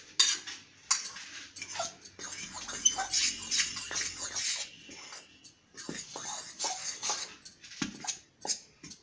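Dry cake ingredients are mixed in a bowl, producing intermittent close clinks and scrapes of a utensil against the bowl in uneven bursts, with no talking.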